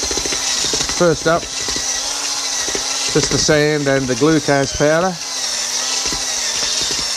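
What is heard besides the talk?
power mixer mixing sand and glucose powder for a core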